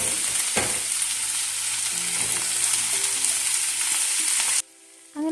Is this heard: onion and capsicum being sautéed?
yes